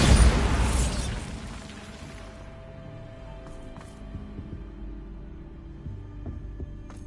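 A Bombarda spell explosion in Hogwarts Legacy bursts loudly at the start, then decays into a low rumbling hum with faint mechanical clicks and soft pops over the following seconds.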